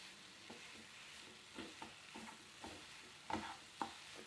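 Banana pieces with cardamom frying in a pan for cutlets, a faint soft sizzle broken by several light scraping taps of a spoon stirring, quiet and close.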